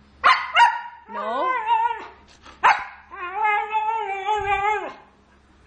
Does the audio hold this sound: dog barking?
yes